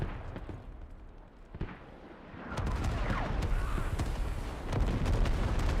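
Heavy booming blasts from friendly airstrikes in the military shooter game Squad, with a low rumble swelling after a sharp onset and a dense barrage of rolling explosions continuing loudly.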